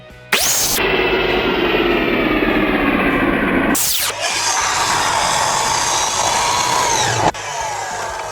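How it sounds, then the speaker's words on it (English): Loud power saw bursts spin up and cut through poplar wood at a 45-degree bevel on a miter saw, two long sustained cutting passes separated by brief motor spin-up and whine, close and with no talking. "Now you're gonna wanna take your miter saw and adjust it to 45 degrees vertically."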